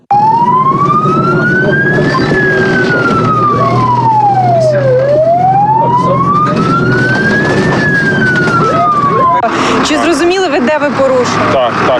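An ambulance siren on a street wails loud and close, sweeping up and down in slow cycles over engine rumble, then cuts into busy, jumbled road noise near the end.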